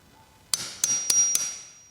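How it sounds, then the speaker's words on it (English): A hammer strikes a center punch into an American walnut cabinet panel four times, sharp metallic taps about a third of a second apart, close and loud with ringing decay. "then hole punch all of our centers"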